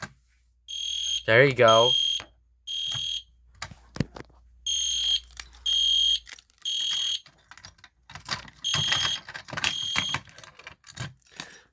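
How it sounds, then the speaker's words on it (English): Est Genesis and Gentex Commander 3 fire alarm horn strobes sound in repeated loud horn blasts, with a rising whoop sweep early on, then a run of sharp pulsing bursts near and close, while a person speaks briefly between them. "this is a fire alarm horn strobe combo with the Est Genesis horn strobe and the Gentex Commander 3"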